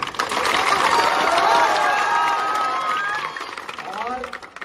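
A large crowd at a Bahujan march rally in Morena, Madhya Pradesh, claps and cheers in a dense, continuous roar of hands and raised voices that holds steady and eases slightly at the end.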